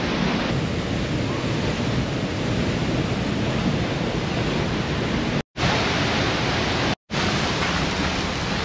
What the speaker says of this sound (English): So supposedly you can go behind the waterfall.